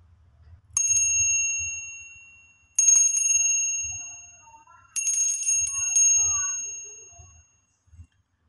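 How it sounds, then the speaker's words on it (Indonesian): A bright bell rings three times, each clear ding left to ring out and fade, with a low murmur of a voice underneath. "ditandai dengan tanda lonceng berbunyi"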